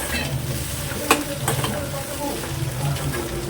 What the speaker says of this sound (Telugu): ఇప్పుడైతే ఉప్పు బ్రెయిన్కి పట్టేంత వరకు కలుపుకోవాలి.